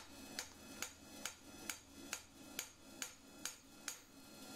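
A hammer strikes a rivet header tool on hot, oiled metal in about ten sharp, evenly spaced blows, each close and loud with a brief ringing decay.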